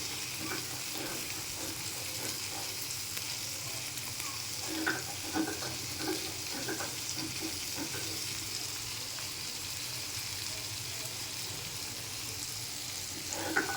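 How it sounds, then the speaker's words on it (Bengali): Small puthi fish fry in hot oil in a wok with a steady, hissing sizzle, broken now and then by light scraping and stirring. "বেশি ভাজতে হবে না, কম আছে ভাজলে ভালো লাগে"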